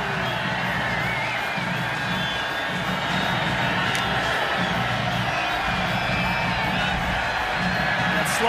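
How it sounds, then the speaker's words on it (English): A football crowd at Falcon Stadium roars and cheers steadily throughout an Army at Air Force college game, a dense, loud wash of distant voices and whoops under a commentator speaking. "Crowd into it again here at Falcon Stadium."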